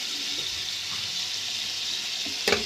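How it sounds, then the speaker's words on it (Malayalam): Farm fish frying in a small amount of sunflower oil, giving a continuous close high sizzle with a brief louder spatter near the end. "കുറച്ച് ഓയിലാണ് നമ്മൾ വറുത്തെടുക്കുന്നത്."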